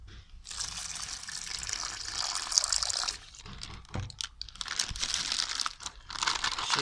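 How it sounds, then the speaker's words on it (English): Water poured into a bag holding acorns and soil or sand, a steady gushing, splashing fill with crinkling plastic, the pour pausing and resuming in bursts, close and fairly loud. "Add more water."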